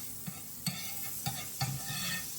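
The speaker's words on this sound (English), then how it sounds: "I'm going to put some butter in the skillet where the bread is going to go" Butter sizzles in a hot skillet with a soft, low crackle, punctuated by a few quiet scraping or tapping bumps, all fairly faint.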